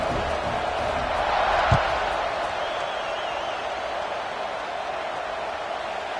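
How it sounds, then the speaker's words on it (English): Football stadium crowd buzzing after a touchdown, a broad sustained roar of many voices at a distance, steady with a slight swell and a single thump partway through. "this crowd is buzzing after that last score"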